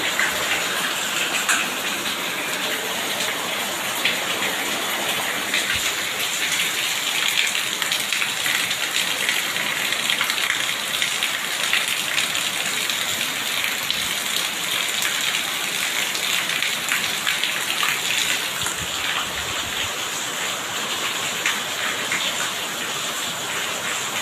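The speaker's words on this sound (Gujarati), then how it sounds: "વરસાદ આવી ગયો" Steady, heavy rain pours down continuously, a dense hiss of drops striking surfaces close by, with no voices.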